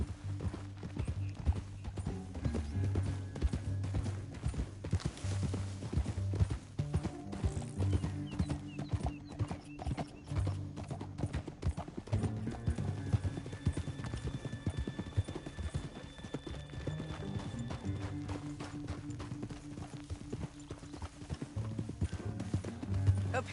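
Horse hooves clip-clop steadily and close by in a Western open-world game, a continuous rhythmic trot with an occasional whinny, set over a low droning musical bed and light ambient noise.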